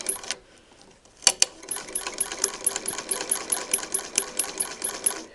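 A vintage Singer Model 20 sewing machine stitching two layers of quilting cotton, a steady run of rapid, close mechanical clicks and whirring after a brief knock and start, with no talking.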